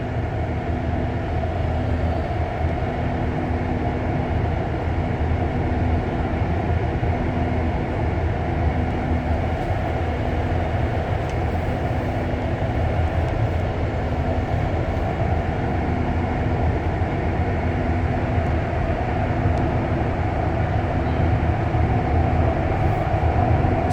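Montreal REM light-rail train on an early, quiet ride from Central Station toward Brossard Station: a steady, loud interior rumble and hum of the moving car, continuous with no talk.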